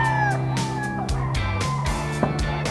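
A White Kelso gamefowl rooster at a gamefowl market in Bocaue gives repeated loud, close, harsh throaty calls in short bursts, with no talking.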